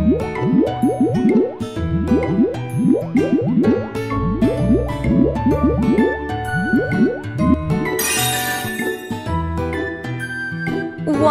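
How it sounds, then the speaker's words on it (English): Soap bubbles squish and drip onto faces in a Tayo repair game, a rapid, rhythmic run of wet bubbly pops and squelches over cheerful game music, ending in a sparkly jingle. "Make some bubbles on their faces."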